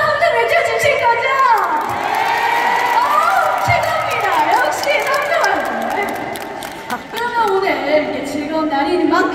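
A large concert crowd of thousands at an indoor trot music festival in Songdo Convensia cheers, shouts and claps loudly and continuously, with children's shrill voices rising through the dense roar.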